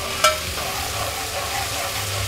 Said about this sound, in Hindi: अब इसमें हम डालेंगे लहसुन अदरक का पेस्ट।